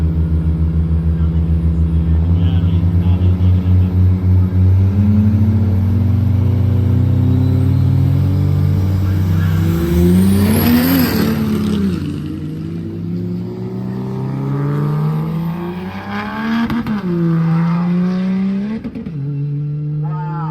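Two cars race side by side down the San Angelo drag strip, a loud, steady engine roar that swells and climbs in pitch through several revving surges, with a faint voice mixed in.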